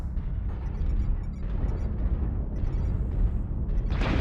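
Airstrike explosions in the MechWarrior Online game rumble as a continuous low, booming barrage with rolling bursts and a brighter crack near the end, heard alone without talk.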